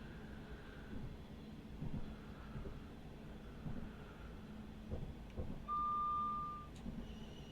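AWS alert in a Class 707 cab in Train Simulator, a single clear steady warning tone lasting about a second over low rumbling cab and traction noise.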